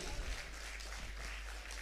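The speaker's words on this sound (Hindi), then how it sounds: "एक बार फिर जोरदार तालियां आप शारिक कैफी साहब के लिए बजा दीजिए" Faint, steady applause from a mushaira audience in Shahjahanpur, greeting the poet Shariq Kaifi at an Urdu poetry gathering; a soft, continuous wash of many hands with no voices.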